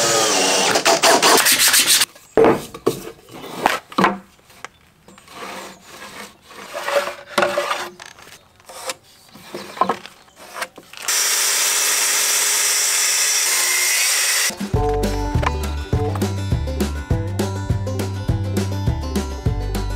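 Hand saw cutting a wooden beam for a timber structure, with irregular rasping strokes and scraping, a steady hiss partway through, then a rhythmic tonal machine-like pattern near the end.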